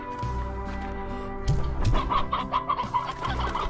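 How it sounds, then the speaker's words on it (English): Chickens in the video game Slime Rancher cluck in quick repeated bursts over steady background music, growing busier and louder in the second half. "Can we feed the chickens?"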